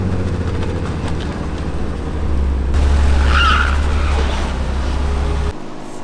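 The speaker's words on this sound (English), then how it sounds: "Just rev the car." A 1990s BMW E36 drift car sits idling close by, then its engine is revved up into a loud, sustained roar for a few seconds before dropping abruptly back toward idle.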